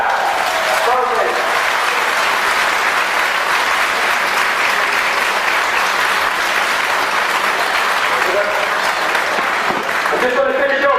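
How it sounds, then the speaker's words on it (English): Sustained, loud crowd applause after a Connacht Club Senior Football Final honours two remembered men, a dense continuous roar of clapping with brief bursts of shouting voices near the start and end. "Big clap"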